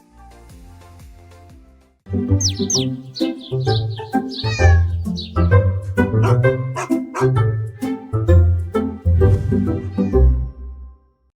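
A cat meows repeatedly and loudly up close, a quick run of separate, varied cries one after another, following a softer, quieter stretch at the start.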